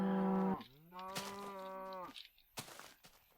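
Minecraft cow mooing in a jungle, two drawn-out low moos, the first loud and short, the second longer and wavering, followed by faint clicks and quiet game sounds.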